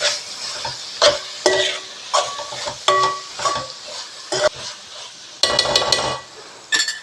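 Soya keema curry with coriander stir-fried in a pan, with repeated scraping and clanking strokes of a spatula over a continuous sizzle, loud and close, no talking.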